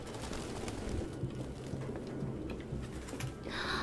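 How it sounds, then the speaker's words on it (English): Pigeons coo steadily in a city scene from the video game Detroit: Become Human, soft repeated calls sitting over a constant broadband ambient bed, no talking. "There's so many pigeons!"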